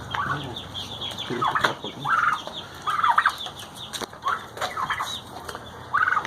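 Chickens clucking inside a coop, several birds giving repeated short clucks and squawks at close to medium range over steady background noise.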